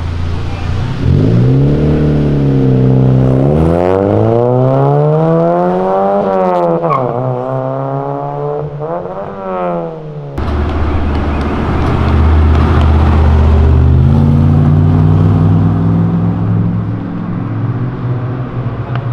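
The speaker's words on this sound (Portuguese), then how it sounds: "Fazendo drift." A car engine revs hard and loud through a drift, its pitch sweeping up and down in repeated rising and falling surges, then settling into a steadier roar near a Golf GTI and McLaren.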